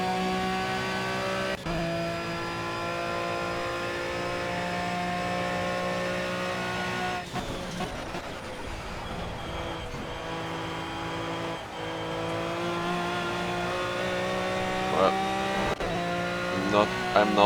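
An Aston Martin Vantage V12 GT3 race car in Project CARS laps Monza, its V12 engine howling steadily at high revs, dropping through downshifts and braking around the middle before climbing again, with a voice speaking over it.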